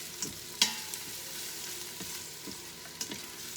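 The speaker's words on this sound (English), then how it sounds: "Gonna go ahead and stir it around." Chicken being stirred in an Instant Pot, with a soft, steady frying hiss and a few sharp scrapes and clicks of the utensil against the pot, fairly quiet and close, with no talking.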